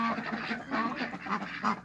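Ducks quack and honk continuously in a village yard, at a moderate distance and with steady overlapping calls.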